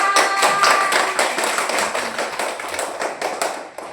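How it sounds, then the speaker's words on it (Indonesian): A group of children clap their hands in a classroom, loud and close, a dense run of claps that gradually thins and fades toward the end. "Ya, tepuk tangan"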